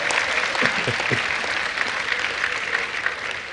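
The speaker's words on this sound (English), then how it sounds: "I think that the women deserve a round of applause, even if men are here." A forum audience applauds the women, a full, continuous round of clapping from many hands that holds steady and close throughout.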